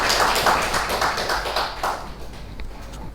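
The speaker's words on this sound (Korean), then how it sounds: "우리 큰 박수로 한번 다시 한번 격려해 주시기 바랍니다." A congregation at a Sunday morning worship service claps together, a loud rhythmic burst of applause that gradually thins and fades toward the end.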